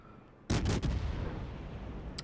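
Naval guns on the Tier 7 Soviet cruiser Shchors fire in World of Warships, a sudden loud blast followed by a rapid burst of shots and a rumbling tail, then one sharper crack near the end.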